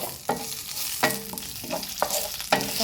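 Curry leaves frying in hot oil for mutton pepper masala, a continuous sizzle broken by four sharp, regular scrapes of a spoon against the pan, close and fairly loud.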